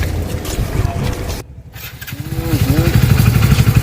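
A motorcycle engine rumbles nearby, dropping away briefly before its low throbbing returns and grows louder with a rising rev, while voices talk over it.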